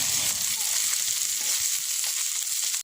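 Close, steady sizzling of small puti fish (pool barb) frying in hot oil in a pan, a continuous crackling hiss without talk.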